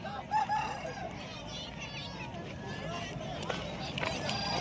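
A rooster crows amid the dense chatter and bustle of a crowded cockfight fair in Purulia, with other fowl and people talking close by throughout.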